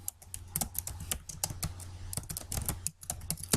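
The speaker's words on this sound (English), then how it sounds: "So I type community service" Rapid, uneven clicks of fingers typing on a computer keyboard, close and fairly quiet, in quick bursts with brief pauses and no talking.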